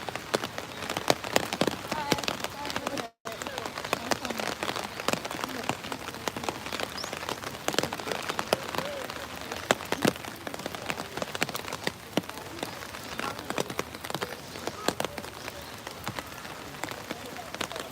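Steady rain falling on leaves and pavement along a wooded shortcut near Meiji Shrine in Harajuku, Tokyo, a dense continuous patter close by, with a brief gap of near silence early on.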